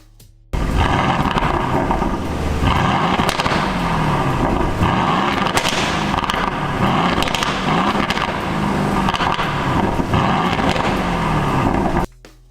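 An Aston Martin Vantage with a Mercedes-sourced engine revs its exhaust repeatedly in a loud, gritty roar. The blips come in a steady rhythm, with some wind buffeting over the recording.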